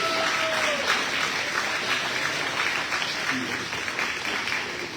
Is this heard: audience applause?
yes